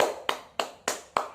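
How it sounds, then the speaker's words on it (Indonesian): Four or five spaced, sharp hand claps in a classroom ring out evenly and close, quiet and alone without talk. "Tepuk tangan dulu."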